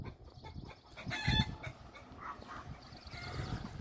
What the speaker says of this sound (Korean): 아까 그게 닭장이 맞네.